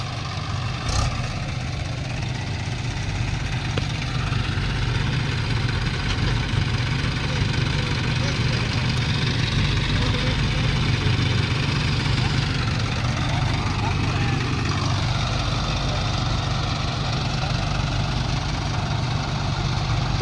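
Three tractors, a Swaraj 744 XT, a Sonalika DI 750 and a Mahindra 585 XP Plus, idle together with sunken tyres, a steady low engine rumble holding without pause throughout.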